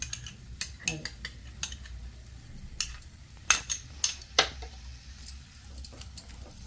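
A spoon stirring yogurt into an egg and prawn curry in a pan, giving scattered light clinks and scrapes against the metal with soft squishy mixing in between, close and fairly quiet.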